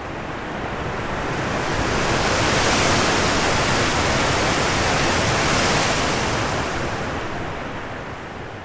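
Waterfall ambience in a game environment, a steady, dense, full rush of falling water that swells slightly and holds constant throughout, with no voices.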